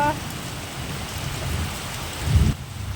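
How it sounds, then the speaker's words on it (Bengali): Heavy rain pours steadily in a windy storm, a dense hiss of falling water with a brief louder gust or rumble near the end. "আর জোরে বৃষ্টি পড়ছে, যেন মনে হচ্ছে কালবৈশাখী হচ্ছে"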